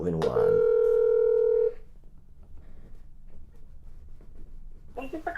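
A steady telephone dial tone sounds loudly for over a second while calling a county fiscal office, then cuts out to a quiet line before a recorded voice begins speaking.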